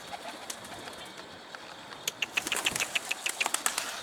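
A Mardin pigeon flies close overhead and tumbles, its wings producing a quick run of sharp flapping claps in the second half after a quieter outdoor stretch.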